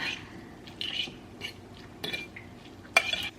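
Sauce of sriracha, mayo and lemon being mixed in a bowl, several soft scraping, clinking strokes of a utensil against the bowl, quiet and close.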